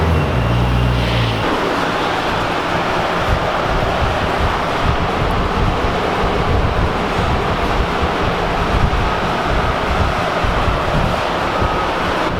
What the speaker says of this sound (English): You may be able to hear it over video, but supercharger is super loud.